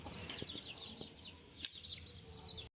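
Chickens clucking in a yard while being fed scattered rice, several birds making soft repeated clucks and chirps near the listener, with a few light knocks under the calls.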